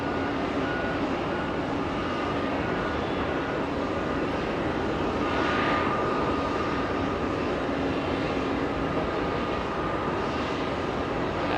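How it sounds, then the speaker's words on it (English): A Virgin Atlantic airliner decelerating on the runway at JFK, a continuous loud rumbling jet roar with a brief surge of engine noise partway through, no talking. "And there we go, Virgin Atlantic slowing down."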